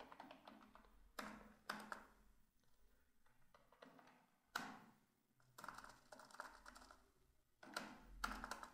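Typing on a computer keyboard in bursts of rapid key clicks separated by short pauses, close and fairly quiet, with no voices.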